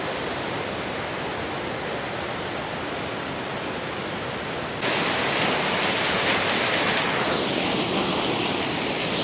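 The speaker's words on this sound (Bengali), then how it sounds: "বিশাল বেগে জল নিচে পড়ছে।" Water pours down with great force at a waterfall in Patratu Valley near Ranchi, a loud, dense, constant roar that grows louder partway through, with no voices.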